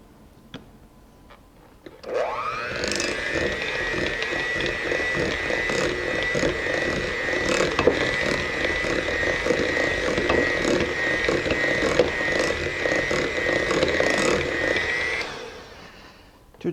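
An electric mixer whisks egg yolks and sugar for tiramisu, starting after a short pause and running as a steady high-pitched motor whine, with occasional knocks against the bowl, until it shuts off near the end.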